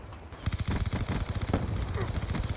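Rapid automatic gunfire from Black Ops 2 online, a dense stream of loud repeated shots with a few sharper cracks, continuous over background sound.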